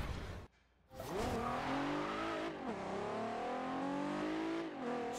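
Nissan R35 GTR engine in the racing game Forza Horizon 2, a loud sustained rev that rises sharply after a brief drop-out, then holds a steady high drone with slight pitch shifts, no talking.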